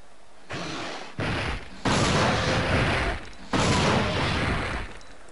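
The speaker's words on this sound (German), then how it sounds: "Ein Schuss, ein Treffer, einmal tot." Gunfire in the video game Dino Crisis 2 booms in heavy, sustained blasts, several loud bursts stacking one after another with brief gaps between.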